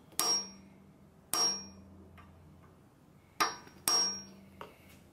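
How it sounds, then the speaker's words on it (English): A hammer taps a punch down into a cylinder head on an RB26 engine: four sharp metallic strikes with ringing decay, irregularly spaced in a quiet room, close and distinct. "we'll just take this bigger punch and just quietly tap it down till it's just below the top"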